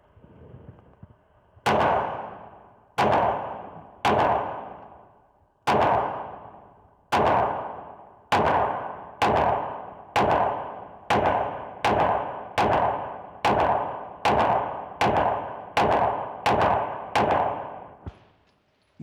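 An Oracle Arms 2311 pistol fires its first magazine, about fifteen sharp, loud shots spaced a second or so apart, speeding up slightly toward the end, each with a short ringing decay.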